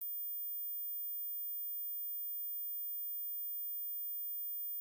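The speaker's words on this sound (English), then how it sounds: "If you heard this high frequency sound, like the video and leave a comment." A steady, continuous high-pitched electronic tone, pure and unchanging, holds at a constant quiet level for the whole stretch with nothing else around it.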